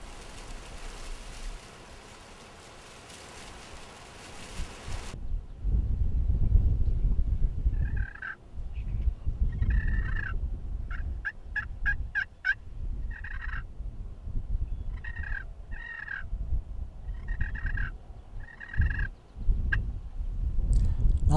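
Wild turkeys in an open field, a strutting gobbler with hens and a jake, heard through heavy wind rumble: repeated short clucks and yelps scattered over the clip, moderately distant and partly masked.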